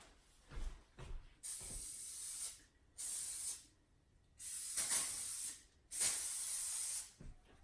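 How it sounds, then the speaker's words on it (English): Olive oil spray hisses onto a pan over a sink in four steady bursts of about a second each, loud and close, with short quiet gaps and a few light clinks between them. "I like to take my pans over to my sink to do this spraying"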